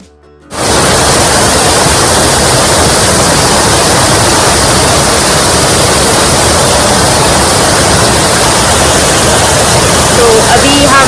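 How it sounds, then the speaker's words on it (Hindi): Bhagsu waterfall in Dharmshala, a steady loud roar of falling water that starts abruptly and holds evenly throughout, with no voices. "बहते हुए झरने के पानी की आवाज़ को सुनना खुद में ही बहुत रिलैक्सिंग होता है।"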